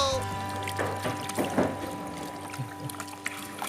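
Water is poured out of a container holding a fish, giving a short, close splashing gush with trickles, while a person talks over it.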